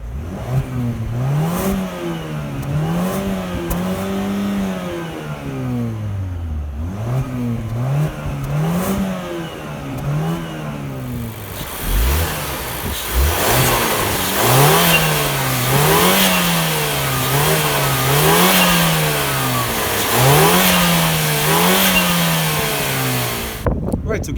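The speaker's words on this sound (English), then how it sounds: "So let's go ahead and listen to the exhaust." A Mazda 6 family sedan's exhaust revs repeatedly, its engine rising and falling in rhythmic pulses, first moderately and then louder and brighter in the second half, heard up close without talk.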